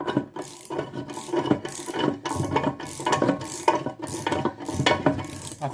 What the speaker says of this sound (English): We'll whip the nut and bolt out.